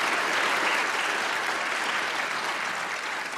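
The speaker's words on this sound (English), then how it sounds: "Let's give Rylan a good round of applause this morning and encouragement" A church congregation at a Sunday service breaks into a full round of applause, a dense, even wash of many hands clapping at close range, sustained throughout without a break.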